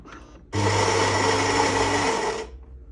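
A Philips LatteGo 5400 series coffee machine runs with a loud, steady mechanical whir and hum that starts abruptly and continues for about two seconds before stopping.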